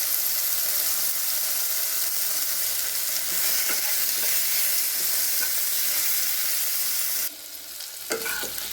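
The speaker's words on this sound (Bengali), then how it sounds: "সেই আলুটা আমি একটু ভেজে নেব" Boiled potatoes frying in hot oil, giving off a loud, continuous sizzle with occasional light stirring clicks, then a brief drop and a sharp clink near the end.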